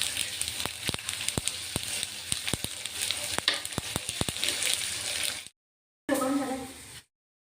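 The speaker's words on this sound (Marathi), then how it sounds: "अशी तडतडली पाहिजे आणि आवाज येतो बघा तीळीचा" Sesame seeds crackle and pop while roasting in a pan, with sharp irregular snaps over a soft sizzle, followed by a brief pause and a short burst of talking.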